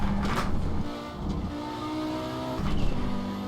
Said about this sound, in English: that little chirp that you hear every time I let off the throttle, that is actually the turbo slicing air